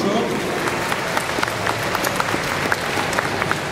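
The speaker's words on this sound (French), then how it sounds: "Vous pouvez l'applaudir." Convention audience at a Japan Expo panel claps for a video game journalist being introduced, a steady dense patter of applause at moderate level with some speech mixed in.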